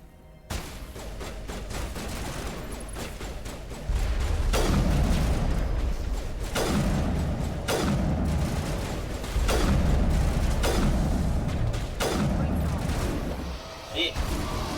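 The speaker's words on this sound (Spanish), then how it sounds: "les he pegado un montón de tiros y no he hecho nada." Repeated loud gunshots and bursts of weapon fire from the Mass Effect video game, firing in several heavy salvos spaced a few seconds apart with some speech faintly underneath.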